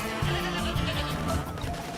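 A goat bleats in Plants vs. Zombies: Battle for Neighborville, with a drawn-out, wavering cry that stands clearly over faint game background.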